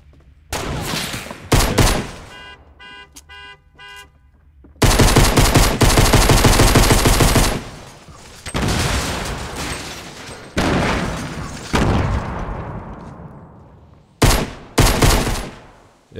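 Bursts of rapid automatic gunfire from a Fortnite match, loud and close, separated by short pauses, with a couple of stretches of sustained shooting and a few sharp single shots near the end.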